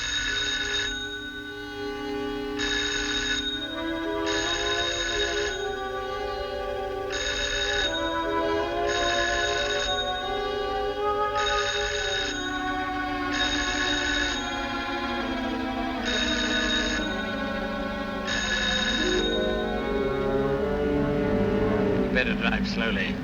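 An old-fashioned telephone rings in repeated regular bursts, about ten rings with short gaps between them, at moderate volume over a steady low background hum.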